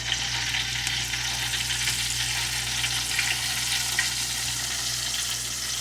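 Fish frying in hot oil gives a steady, dense sizzle that holds at an even level throughout, with no voices.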